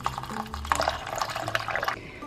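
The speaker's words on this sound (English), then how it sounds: "All you do is cover your nuts or seeds with filtered water." Filtered water poured over nuts or seeds in a container, a close, splashy trickle with small drips and gurgles filling steadily for a couple of seconds, heard alone.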